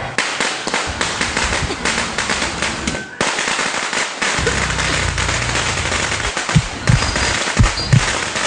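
Firecrackers bursting nearby, a dense run of sharp rapid cracks and pops that keeps up throughout, with a few louder single bangs toward the end amid general crackle.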